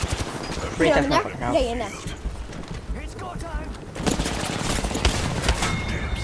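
Gunfire in the video game Apex Legends during a squad fight, rapid bursts of shots and game effects running throughout, with a player talking excitedly over the action.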